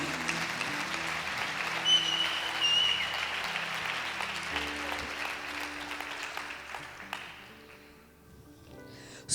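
Church congregation applauds steadily at moderate distance, a dense wash of clapping that fades out near the end, with faint music tones underneath.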